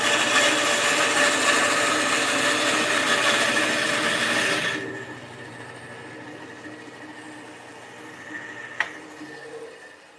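Wood being cut with a power saw while hanging Cajun cruisers: a loud, steady broadband whine for about five seconds that then stops, leaving quiet room tone with a single sharp knock near the end.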